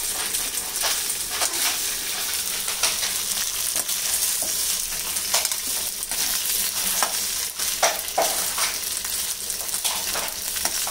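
Cumin seeds fry in desi ghee, giving a continuous bright sizzle with crackles and occasional stirring scrapes, close and steady throughout.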